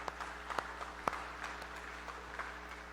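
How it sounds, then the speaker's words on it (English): A church congregation applauds the tech booth and praise band, a steady, fairly quiet wash of clapping with a few sharper claps standing out over a low hum. "So give the tech booth and the praise band a round of applause"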